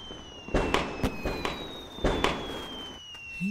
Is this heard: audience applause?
no